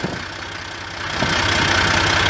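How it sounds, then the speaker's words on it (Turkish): A hoe tiller machine engine runs while weeding between grapevine rows in a vineyard, a loud, close, steady chugging drone that grows slightly louder partway through. "çapa makinemle yapmaya devam ediyorum"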